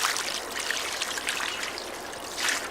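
Liquid poured onto a hot aerobic compost pile makes a steady, close trickling and splashing wash that swells briefly near the end, with no talk over it.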